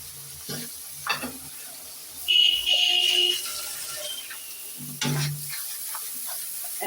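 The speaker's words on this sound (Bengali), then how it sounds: "এখন আমি একটু লাল লাল করে ভেজে নেব মশলাগুলো" Garlic, ginger paste and cumin frying in a pan, a soft sizzle with stirring scrapes and a brief louder hiss midway, close up with quiet kitchen clatter and no talking.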